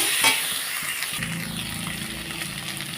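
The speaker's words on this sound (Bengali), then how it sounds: "তো দিয়ে দিচ্ছি হাফ চামচের মতো লবণ তো দেখো এটা দিয়ে ভালোভাবে কষিয়ে নিয়েছি" Taro curry sizzles and fries steadily in a pan as salt is added and it is stirred, a loud continuous hiss with scraping underneath, no voices.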